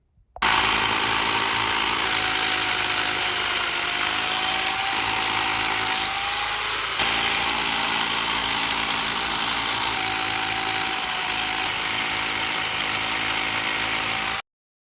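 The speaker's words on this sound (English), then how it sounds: "let's keep drilling rocks." Power drill boring into rock in the high desert, a loud continuous whining motor drone with a grinding edge that holds steady, briefly dipping and shifting pitch midway before carrying on until it cuts off.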